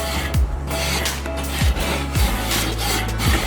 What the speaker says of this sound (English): So I just want to scrub it like that, all up and down, get everything off.